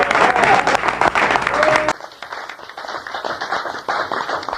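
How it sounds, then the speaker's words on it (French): Studio audience applause on a 1991 television show, loud dense clapping for about two seconds, then fading to lighter scattered claps. "j'aimerais qu'on l'applaudisse tous"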